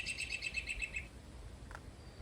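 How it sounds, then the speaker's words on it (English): Recorded birdsong played from a phone speaker outdoors as a lure: about a second of quick, evenly repeated high chirping notes, faint against steady low background noise, then only quiet ambience. "A good way to call out birds that might be in hiding is by luring them out with a bird call."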